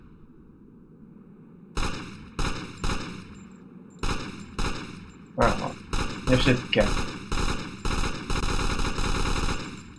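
Gunfire in the video game Grass Simulator: repeated loud bursts of shots in quick clusters, some rapid like automatic fire, over a steady game background, with someone talking briefly among them.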